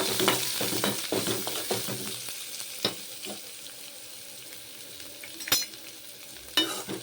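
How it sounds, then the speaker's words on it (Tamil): Mustard seeds, curry leaves and onions sautéing in hot oil in a kadai, with scattered crackles and pops over a soft frying hiss and occasional louder spatters or stirring clinks, close by and without talk. "ஒரு கடாயில் ஆயில் போட்டு கடுகு கருவேப்பிலை வெங்காயம் போட்டு வதக்கிக்கோங்க"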